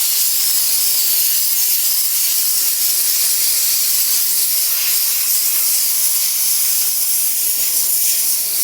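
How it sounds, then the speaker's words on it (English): Heavy duty steam cleaner blasting steam onto tough grime, a loud, steady, close hiss that runs without a break the whole time, with faint scrubbing texture underneath. "This is literally just me using the power of steam."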